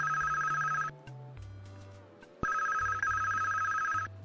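Electronic telephone ringing in the Police Quest 1 VGA game, two loud sustained trilling bursts separated by a short pause, set over low synthesized background music with no talking.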